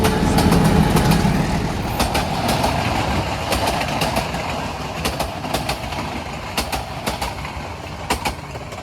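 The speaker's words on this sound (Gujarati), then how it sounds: "જો ટ્રેન આવી ગઈ આપણી" A short train rolls into a station, a steady rumbling drone with rhythmic clicking of wheels over rail joints that grows more distinct as it slows, with no voices.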